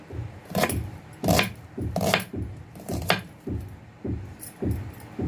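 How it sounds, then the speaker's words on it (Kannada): Close knife chops through onions on a board for a bitter gourd palya, about nine dull, regular strikes with a soft crunch, steady and unhurried, with no voices. "ಈಗ ಈರುಳ್ಳಿ ಇದನ್ನೆಲ್ಲ ಹೆಚ್ಕೊಂಡು ರೆಡಿ ಮಾಡ್ಕೊಳ್ತೀನಿ"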